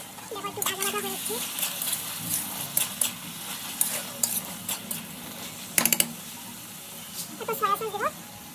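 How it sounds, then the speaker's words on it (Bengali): Chicken gravy, with soy sauce added, is stirred and fried in a pan, with soft sizzling and intermittent clinks and scrapes of a spoon against metal while a person talks. "একটু নাড়িয়ে দেবো।"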